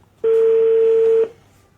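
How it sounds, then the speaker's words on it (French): A phone call rings out unanswered: one loud, steady ringback tone lasts about a second, then drops to near silence. "Ça sonne, ça ne décroche pas."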